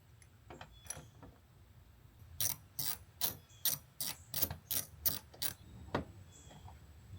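A socket ratchet working screws loose from a Ford Mustang side marker light, a run of about a dozen evenly spaced sharp clicks after a few scattered taps, close and alone without talk.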